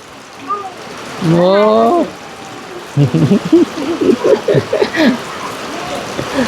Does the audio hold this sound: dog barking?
no